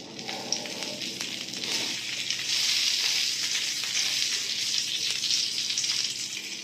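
Stuffed eggplant sizzles in oil under a lid in a pan over low flame, a steady crackling fry with a few light clinks early on, growing slightly brighter midway and continuing without talk.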